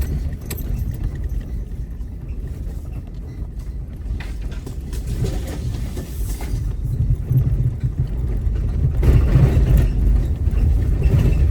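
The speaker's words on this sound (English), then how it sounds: "Those are my tires rubbing against" A truck's tires rub against the body while driving, giving a steady low road and engine rumble that grows louder toward the end, with intermittent scraping under the drone and no talking.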